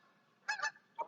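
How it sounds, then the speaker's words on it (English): Canada geese honk nearby, a quick pair of loud calls followed by another honk, against quiet background. "Canadian geese."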